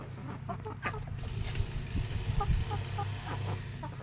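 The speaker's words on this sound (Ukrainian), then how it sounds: "Курочка китайська шовкова, півничок." Silkie chickens cluck softly nearby in short repeated bursts, several birds murmuring over a low background rumble.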